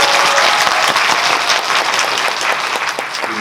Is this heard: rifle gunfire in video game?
no